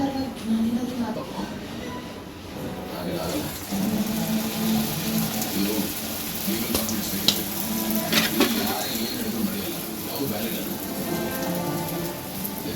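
A chapati roll fries in oil in a pan, giving a steady sizzling hiss with soft stirring and scraping throughout, moderately close and continuous.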